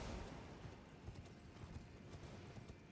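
Horse hooves clip-clop at a steady gallop in the Elden Ring video game, a fast even stream of close, moderately loud beats under a constant wash of ambient game noise, with no talking.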